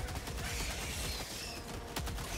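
Gunfire in Helldivers 2 fills the moment as a dense, continuous barrage of rapid shots, loud and close, with one sharper burst near the end and no voices in between.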